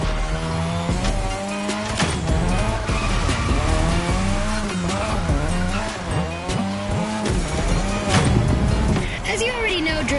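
A car drifts on a drift track in The Crew Motorfest video game, its engine loud and close as it revs up and down while the tires squeal in long, continuous skids. A voice speaks over the engine noise.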